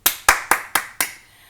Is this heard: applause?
yes